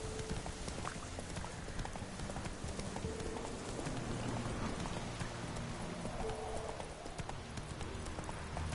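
Horse hooves clip-clopping at a gallop, a rapid continuous drumming, fairly faint under a broad wash of ambient noise with no talk.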